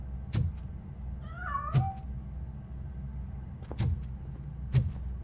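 A cat in the game RoboCop: Rogue City lets out one clear, wavering meow amid sharp clacks and footsteps in a quiet street scene.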